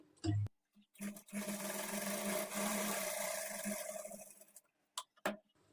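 A sewing machine runs a double stitch along a churidar pant, one steady mechanical whir lasting about three seconds between short clicks of handling, with no talk.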